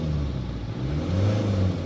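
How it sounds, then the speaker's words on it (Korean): A Hyundai Starex van fitted with a high-performance turbo setup and free-flowing exhaust hums at a steady mid-pitched rev, its engine and exhaust drone continuous and close, with no voices. "배기가 시원하게 빠져나가니까"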